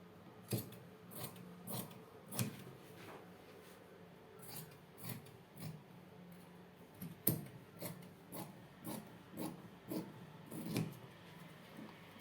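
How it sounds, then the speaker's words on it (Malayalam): Scissors cutting through fabric for a churidar-style nighty, a series of quiet close snips and sliding crunches in irregular bursts with short pauses between cuts, no talking. "നമുക്കിതൊന്ന് കട്ട് ചെയ്തെടുക്കാം."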